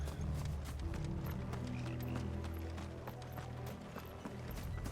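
Horses gallop in the video game Final Fantasy XVI, their hooves drumming in a steady, continuous rhythm over a low rumbling bed of sound. No voices are heard.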